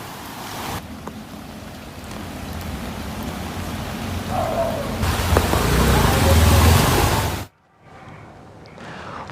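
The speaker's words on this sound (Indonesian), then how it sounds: "Hujan deras yang mengguyur Jakarta sejak sore mengakibatkan kemacetan di beberapa ruas jalan" Heavy rain falls over Jakarta in a broad, steady wash of hiss that swells louder toward the end before cutting off abruptly.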